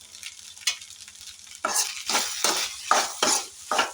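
Tomato rice is mixed in a pan with a spoon, a series of close scraping, swishing strokes with light metallic clinks and a soft sizzle, growing busier and more rhythmic toward the end, with no voices.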